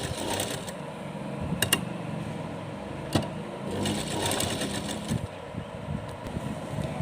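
A sewing machine stitches lehenga dress fabric in a continuous close whir, broken by a few sharp clicks and taps, with no speech.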